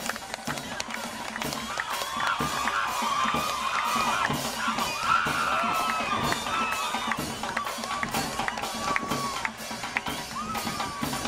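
A street crowd at a carnival parade during a poetry festival in Granada, Nicaragua cheers, whoops and shouts with scattered clapping, lively and continuous, with rhythmic percussive hits running underneath.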